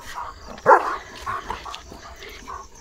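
Leo, a German Shepherd, lets out a single sharp bark close by in a quiet room at night, followed by faint whimpering and soft movement noises.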